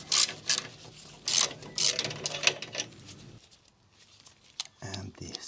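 A ratchet loosening the muffler clamp on a Harley Davidson Touring motorcycle: quick, rhythmic bursts of clicking close by for a couple of seconds, then a few scattered metallic clicks, with a voice present.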